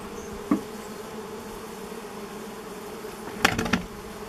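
Honey bees buzz softly around a beehive that has been opened after more than 30 years. The humming drone is faint and continuous, with a couple of brief knocks and rustles near the start and close to the end.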